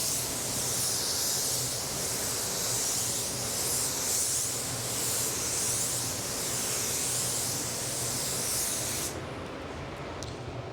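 Apollo Precision 6 Pro HVLP spray gun painting a car bumper, a loud, steady hiss of atomizing spray that runs without a break and cuts off abruptly near the end.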